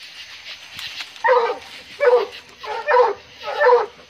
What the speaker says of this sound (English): What are you barking at, old fart?